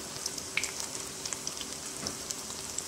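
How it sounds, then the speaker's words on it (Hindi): Beef chapli kabab frying in hot oil in a pan, a steady quiet sizzle with scattered small pops and crackles throughout, no voices. "और अब मैंने अपना कबाब जो है वो तलने के लिए रख दिया"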